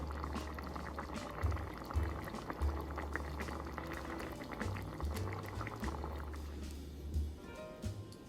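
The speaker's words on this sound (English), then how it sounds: "I'm gonna let it come back up to a higher heat and then lower it to simmer" Soup rolls steadily back to a boil on the stove, with a dense bubbling and popping that runs throughout, close and fairly quiet, easing slightly near the end.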